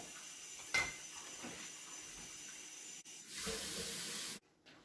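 Tap water running into a pot for boiling eggs, a quiet room hiss at first, then a louder steady gush of about a second before the flow cuts off abruptly.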